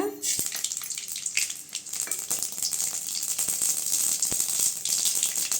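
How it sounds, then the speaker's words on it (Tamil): Mustard seeds and curry-leaf tempering crackle and sizzle in hot oil in a frying pan, a steady close hiss with scattered sharp pops throughout. "வடைச்சட்டி சூடாயிருச்சுங்க எண்ணெய் சேர்த்துக்கலாம் கடுகு சேர்த்துக்கலாங்க"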